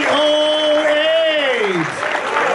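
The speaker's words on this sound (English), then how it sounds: "Give a round of applause, if you would, for Ron Howe and Bob Miller taking it with" A crowd applauds the winning pair at the 2016 Tournament of Champions, a steady wash of clapping under a loud, drawn-out announcer's voice that rises and then slides down.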